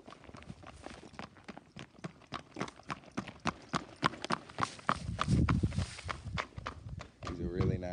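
A bay horse's hooves clip-clop at a steady walking pace on hard ground, close and distinct, with a voice talking over the later steps.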